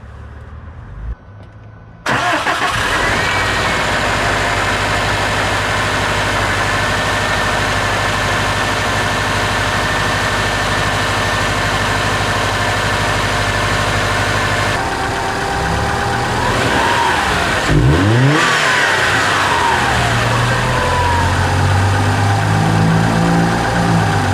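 After a moment of quiet, a car engine with a possible vacuum leak cranks and starts, then runs at a steady idle with a couple of revs swelling and falling near the end.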